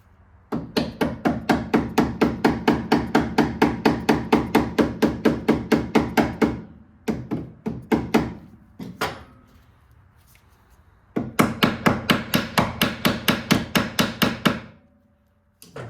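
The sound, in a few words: hammering a peg into motorcycle rear floorboard mount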